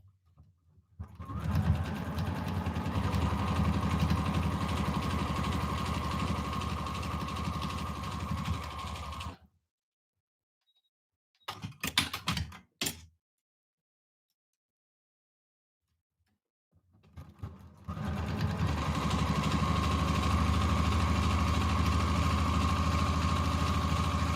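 A sewing machine stitches quilt pieces at a longer stitch length, whirring steadily in two long runs separated by a quiet pause and a brief burst of short starts, close and loud.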